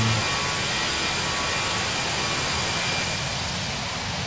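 Aerosoft Airbus jet engines roar steadily in a flight simulator climb, a dense, constant broadband rush with no breaks, loud and even throughout.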